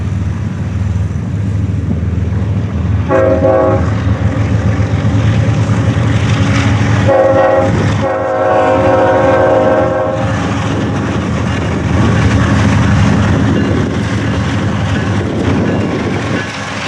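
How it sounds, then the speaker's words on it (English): CSX intermodal train passing on the Willard subdivision at Fostoria, its rumbling consist loud and close throughout while the engineer plays the horn in several bursts, some short and some long. "this train had a friendly crew aboard because the engineer decided to give a horn show for all the rail fans to hear"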